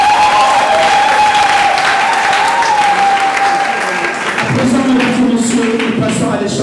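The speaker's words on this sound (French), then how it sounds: "Applaudissez s'il vous plaît." Guests clap steadily at a civil wedding ceremony with military honours, a loud, sustained applause filling the room, with a voice starting to speak over it near the end.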